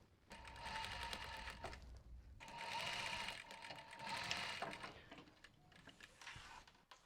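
Home sewing machine stitching fabric pieces of a bumbag together with white thread, running in three steady whirring bursts separated by short pauses, close and fairly loud with no talking.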